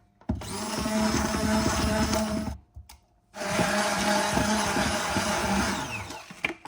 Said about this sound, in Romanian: le mixăm un pic cu robotul de bucătărie